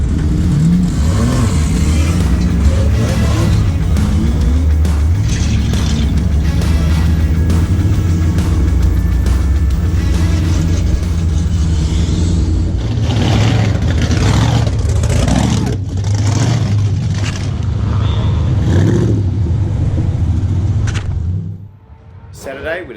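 A V8 LS-swapped Toyota Corolla revs steadily and loudly while cruising near a car show, its deep engine note droning under occasional talk before dropping off at the end.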